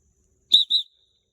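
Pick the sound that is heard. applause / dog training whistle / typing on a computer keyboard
dog training whistle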